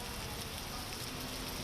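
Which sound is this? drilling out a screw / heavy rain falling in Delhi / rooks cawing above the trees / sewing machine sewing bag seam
heavy rain falling in Delhi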